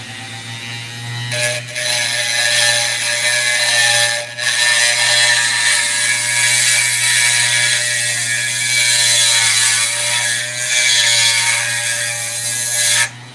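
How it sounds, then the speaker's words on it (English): A very old Dremel rotary tool runs steadily and loudly, a continuous high whine with a buzzing hum beneath, briefly dipping in pitch a few times as it loads up on the work. "This is a very old Dremel."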